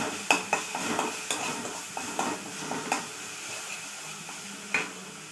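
Ground masala fries in oil in a pan, a soft sizzle under repeated scraping and stirring taps of a spoon against the metal, with a few sharper knocks spaced through.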